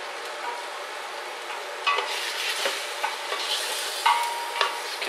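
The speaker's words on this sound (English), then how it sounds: "Continue to just stir around a bit." A spoon stirs Polish borscht cooking in a pan, giving a soft continuous sizzle with scattered light scrapes and clicks against the pan, close and fairly quiet with no talking.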